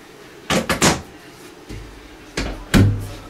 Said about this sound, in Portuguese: E assim, não tem dificuldade de abrir a porta,